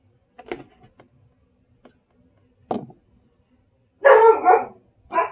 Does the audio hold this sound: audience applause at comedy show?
no